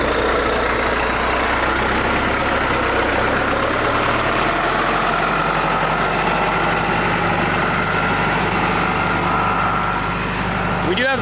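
A tractor carrying a rear blade for extra weight strains to lift a heavy rock at a culvert repair, its engine a steady, close, low diesel drone that holds evenly throughout.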